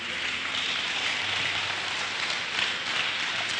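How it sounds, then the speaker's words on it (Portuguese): A church congregation claps in steady, dense applause that sounds like a broad patter, holding at an even level throughout with no speech over it. "Dê um aplauso para o Senhor."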